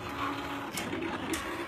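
A Silhouette Cameo 3 cutting machine runs close by with a steady mechanical whir, broken by a few brief tapping clicks as the blade carriage moves.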